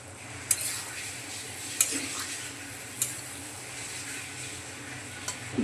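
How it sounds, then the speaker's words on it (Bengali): Curry simmering in a pan after water goes in, a soft continuous sizzle and bubbling under a few sharp metallic clinks of a spoon against the pan, close and moderately quiet. "এখন দিয়ে দিচ্ছি পরিমাণ মতন জল।"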